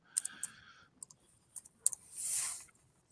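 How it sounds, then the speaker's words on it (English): A few scattered keyboard clicks tapping in short, irregular bursts at moderate distance, followed by a brief broadband rustle, with no talking over them. "I hear somebody typing."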